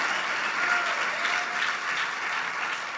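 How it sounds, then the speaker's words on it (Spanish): A church congregation applauds together, a steady dense wash of clapping that stays at an even level from start to finish with no voices on top. "Bueno, aplaudámosle al Señor con todo el corazón."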